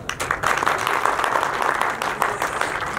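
Applause from an audience at a Nepali stage event, honoring actor Paul Shah: dense, steady clapping throughout, loud and close, without a break.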